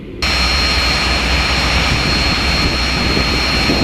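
A Cessna Citation training jet on a touch and go at Bremen produces a loud, continuous broadband jet roar that starts abruptly and holds steady and close throughout.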